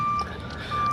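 A backing vehicle gives out electronic reversing beeps, a steady high-pitched tone that cuts off and returns, heard at a distance against outdoor background noise.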